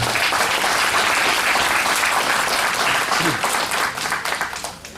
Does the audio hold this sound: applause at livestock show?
yes